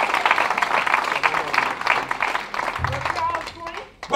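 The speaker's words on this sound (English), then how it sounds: "Give them a round of applause." Applause from a community gathering in Coldwater, Mississippi, a moderate burst of clapping that thins out as a voice begins speaking and other room sounds take over near the end.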